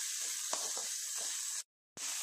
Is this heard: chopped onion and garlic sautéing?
yes